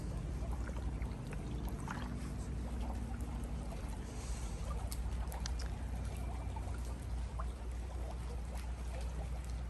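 Spring water runs steadily from an unfiltered public spring where townspeople fill bottles, a continuous close pouring and splashing that carries on throughout with no talking.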